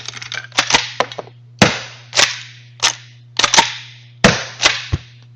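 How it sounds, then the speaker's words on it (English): A pistol loaded with blanks fires loud, sharp bangs, each followed by the metallic rack of its slide, in a close, repeating bang-and-rack rhythm of about eight sharp reports over a steady low hum. "let me go through a couple rounds so you can see how it works. Keep in mind it's blanks"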